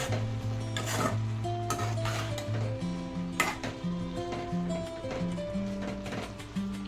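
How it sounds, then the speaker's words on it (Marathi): Carrot halwa being mixed in a pan, with a spoon scraping and knocking against the metal in quick irregular strokes, while sustained musical tones play steadily underneath. "एकदा मिक्स करून घेऊया छान."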